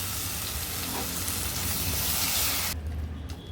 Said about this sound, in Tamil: தக்காளி பழத்தோட பச்சை வாடை போகிற அளவுக்கு வதக்கிக்கோங்க